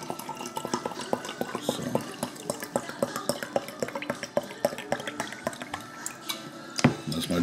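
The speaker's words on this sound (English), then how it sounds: "And then I mix that with my water." Powder is stirred into reverse-osmosis filtered water, giving a close, busy run of small clinks, taps and liquid drips. A brief word is spoken near the start.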